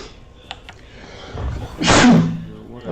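A single sudden sneeze bursts out near the end after a few faint clicks and quiet shuffling, loud and close with no talking.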